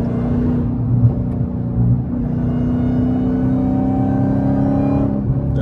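The supercharged engine of a Dodge Charger Hellcat gives a loud, steady low rumble with a whining overtone that holds for several seconds, no voices.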